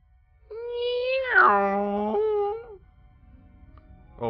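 One long, wavering meow with a rising then falling whine lasting about two seconds, close and clear, followed by quiet and a brief voice onset.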